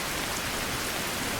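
Steady rain falls at night in a survival video game, an even, dense hiss that holds at a constant level throughout, with no voices.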